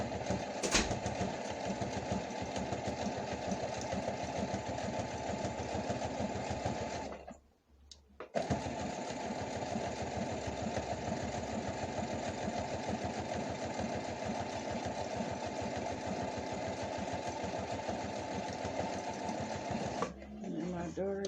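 A sewing machine stitches a bralette in long, fast, steady runs of mechanical whirring and clatter, close and loud, stopping briefly for about a second before resuming; a voice talks faintly underneath at times.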